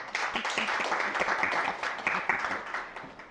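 A conference audience claps steadily for a presenter, a dense patter of applause at moderate volume that holds throughout.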